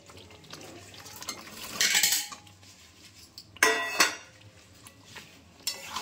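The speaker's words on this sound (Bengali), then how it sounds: "এবারে আলুগুলো দিয়ে দেবো" Potatoes tipped into a cooking pot of kasuri methi masala during a family home cooking session, giving two bursts of clattering and scraping against the pot over faint background hiss.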